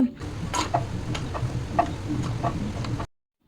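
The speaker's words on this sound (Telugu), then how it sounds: "బాదాము ముంతమాడిపప్పు వేసుకొని సో మీడియం ఫ్లేమ్లో పెట్టుకొని బాగా ఫ్రై చేసుకోండి" Almonds and cashews frying in ghee in a pan over medium flame, giving a steady soft sizzle with light stirring clicks and occasional scraping taps throughout.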